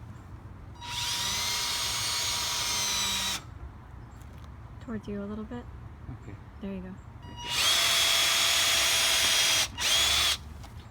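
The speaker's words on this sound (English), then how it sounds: "I'm going to drill a hole." A power drill whines in two sustained bursts, boring into wood, with brief spoken exchanges between the bursts.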